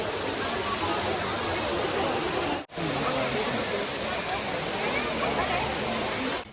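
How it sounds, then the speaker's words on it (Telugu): A small waterfall at Ramoji Film City pours in a steady, loud broadband rush that fills the whole clip, close by and unbroken except for a brief dip partway through. "ఇక్కడ ఏంటంటే ఒక చిన్న వాటర్ ఫాల్ లాగా కూడా ఉంది చూడండి"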